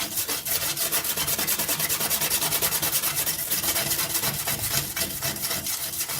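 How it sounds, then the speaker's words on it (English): A wire brush scrubbing a fresh weld on a steel panel during rust repair on a 1990 Nissan 240SX, a loud, close, continuous fast rhythmic scraping with no talk. "so I just wire brushed off the weld"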